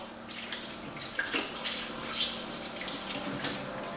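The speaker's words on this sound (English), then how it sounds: "Give my hands a wash." A kitchen tap runs steadily as hands are rinsed beneath it, a close, moderate splashing stream with a few brief knocks and no speech.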